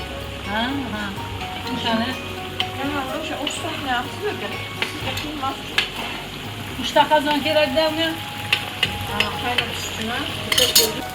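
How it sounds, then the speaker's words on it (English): Meat and yellow and orange carrots for Bukharan plov sizzle and crackle steadily in hot oil while being stirred, with occasional utensil clinks and people talking over it. "She's putting them on top of the meat that is frying in all those amazing oils."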